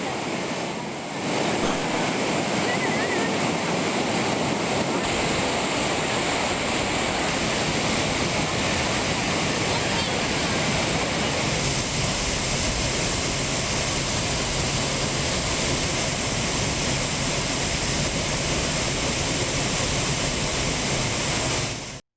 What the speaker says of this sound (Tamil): குற்றாலம் மெயின் அருவியில வெள்ளப்பெருக்கு ஏற்பட்டிருக்கு.